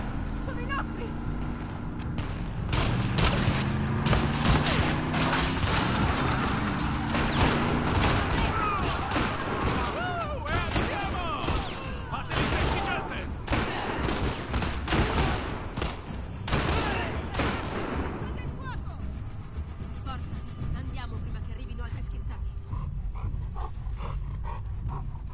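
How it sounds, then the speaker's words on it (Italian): Gunfire crackles in the video game The Last of Us Part II, with bursts of rapid shots scattered through a long stretch under near-constant talking, plus dog barks and panting amid the chaotic combat noise. "Abbiamo sentito gli spari."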